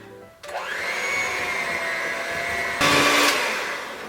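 An electric mixer whirs through gluten-free chocolate nut butter cookie dough, starting abruptly and holding a loud, steady motor drone close by, briefly rising in pitch and strain near the end.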